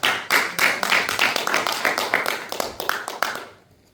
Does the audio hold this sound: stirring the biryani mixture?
no